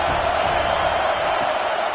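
Alabama Crimson Tide fans roar through a football stadium on a third down, a steady dense wall of crowd noise with no breaks.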